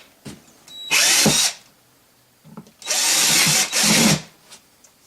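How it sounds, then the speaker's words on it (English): A power drill bores holes through the bottom of a plastic worm bin, two close, loud whirring bursts, a short one and then a longer one lasting over a second, separated by quiet pauses. "I'm going to drill another one right here."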